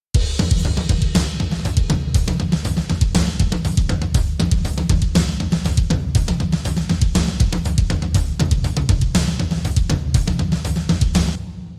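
A full drum kit playing a steady groove through a Scheps 73 console EQ plugin, punchy kicks and snare hits with bright cymbals, dense and close, no voices.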